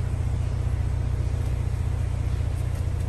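A Ford Mustang engine in exhaust mode holds a steady, deep low rumble, continuous and even throughout, with no voices over it.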